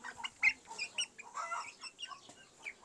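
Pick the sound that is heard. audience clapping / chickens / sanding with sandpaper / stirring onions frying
chickens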